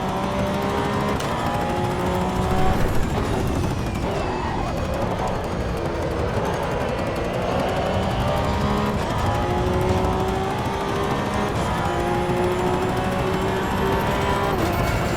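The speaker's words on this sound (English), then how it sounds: "We're just cruising with a blown tire." Race car in the Assetto Corsa Evo racing game driving on a blown tire, with a steady loud engine drone and shifting pitch running continuously throughout, with occasional tire scrub.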